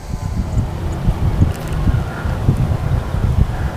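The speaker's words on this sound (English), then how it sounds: "Got a little wind." Wind blows steadily outdoors during a fishing outing, making continuous low rumbling buffets against the microphone with no speech.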